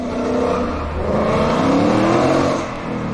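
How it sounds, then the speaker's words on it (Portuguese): Ford Mustang engine revving with a loud, steady, throaty rumble that swells and then eases off slightly near the end, alone without talking. "aqui é o som do Mustang"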